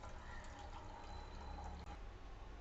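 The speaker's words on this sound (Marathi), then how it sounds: "आता आपण हे पाणी काढून घेऊ हे बघा कसं पाणी निघतं" Water drained from soaked green mung beans pours out in a faint, steady trickle, a soft continuous splashing with no voices.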